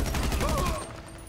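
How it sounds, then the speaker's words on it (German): Gunfire in GTA Online, a rapid rhythmic burst of shots that fades away after under a second, with a faint voice beneath. "Warum schießen die auf mich?"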